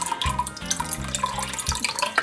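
Water pours from a pitcher into an Instant Pot for steel cut oats, a close, splashing trickle with a few distinct gulps and glugs as the stream starts and shifts, with no talking.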